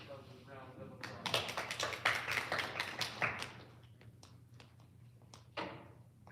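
Scattered applause from a small audience at a grade 6 spelling bee, a burst of claps that builds quickly, thins out over a few seconds, then ends with a single late clap, with voices faintly beneath.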